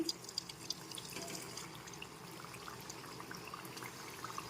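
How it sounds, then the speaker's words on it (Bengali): Chhana jilipi, cottage-cheese jalebi, frying in hot oil: a steady close sizzling hiss dotted with small crackles and pops, running without a break and with no voices. "তেল গরম করে নিয়েছি এবার জিলিপিগুলো ভেজে নিচ্ছি"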